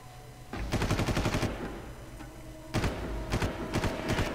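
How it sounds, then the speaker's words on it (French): Two bursts of rapid automatic gunfire from the Far Cry video game, each lasting about a second, with sharp repeated shots heard close and loud over quiet background game ambience. "Je tire sur les mecs."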